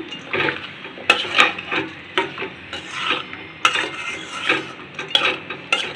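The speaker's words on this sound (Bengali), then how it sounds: "ডালটাও দিয়ে দিলাম সুন্দর করে কষান দিয়ে। তারপরে জল দেবো।" Lentils are stirred and sautéed in a pan, producing steady, repeated scraping strokes with a light sizzle underneath. The sound is close and fairly loud throughout.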